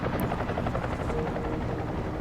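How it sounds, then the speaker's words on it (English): Helicopter flying past in Deus Ex: Human Revolution, a steady thumping rotor chop with a low droning engine, fairly close and continuous. "Random chopper just flying on through?"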